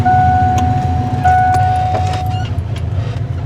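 Ford 5.0 V8 idling rich with a slight lope, running in first gear with the park brake set, a close, low uneven rumble with some light metallic jingles and a faint whine over it.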